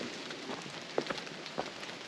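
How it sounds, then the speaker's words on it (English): Rain picking up in a forest grove, a dense continuous patter on leaves and ground with a few sharper nearby drop hits standing out, steady and fairly close. "And this rain's starting to pick up."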